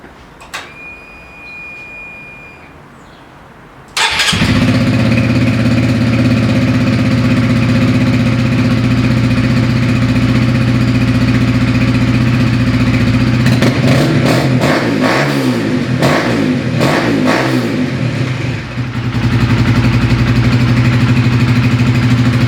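A Honda CBR 125R with an Akrapovič exhaust, baffle fitted, fires up from cold after a starter whir and settles into a loud, close, steady idle, with a few bursts of revving partway through.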